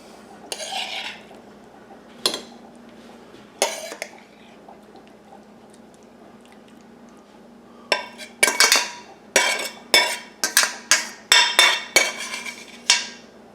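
A spoon scrapes and clinks against serving dishes while a meat and onion mixture is portioned out, with sparse taps early and then a rapid run of close, wet scooping and knocking sounds.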